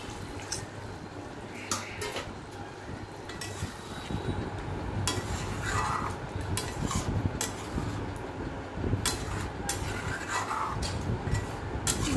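Ridge gourd and potato with spice paste being stirred in a pan, a steady close scraping and clatter of spoon against metal with soft sizzling underneath, continuous throughout.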